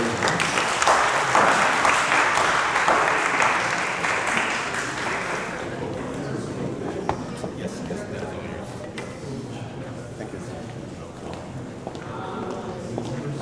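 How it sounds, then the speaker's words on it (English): Loud, dense applause from an audience at a founders' summer showcase event for an African impact initiative, strongest over the first six seconds, then thinning into scattered claps and room noise. "Please round of applause."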